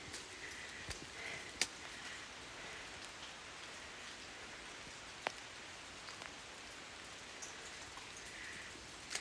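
Water drips inside an old gold mine tunnel along a logging road, with scattered faint drops and soft taps over a quiet, hissing wet background.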